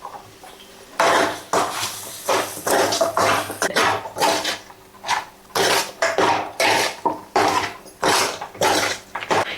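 A spoon stirring chili powder into chicken frying in a metal pan, with repeated scraping clatters in a steady rhythm against a sizzling background, close and fairly loud.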